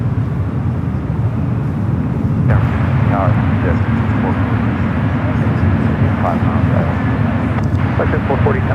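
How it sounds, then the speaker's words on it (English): A Cathay Pacific Boeing 777-300ER taxis at San Francisco airport, heard as a steady low engine rumble and hum from a distance, with someone talking intermittently over it. "this 777 at 300ER now. Starting his taxi out there to the 28s"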